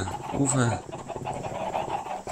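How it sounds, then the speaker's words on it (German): Chickens cluck and squawk close by in a short burst in Minecraft, with a busy, slightly synthetic background hum. "Das sind die Hühner, die mich bewegen."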